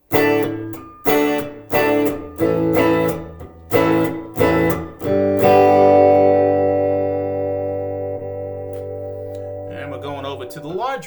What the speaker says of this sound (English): And now the small room reverb.